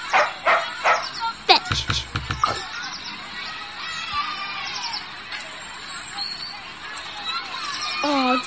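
A dog in the kids' game My PlayHome Plus gives several quick yips and barks early on, close and clear, followed by a quieter stretch with soft cartoonish whines and chirps; a voice talks over parts of it.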